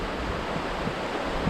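The River Elan in Wales rushes past as a steady, broadband wash of flowing water, continuous and fairly loud with no voices.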